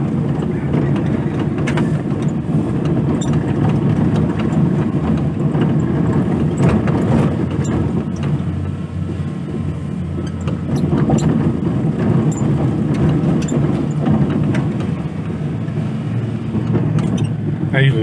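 A car moves quickly along a smooth stretch of rural road, a steady low engine and tyre rumble filling the cabin without a break, with a slight dip in intensity midway.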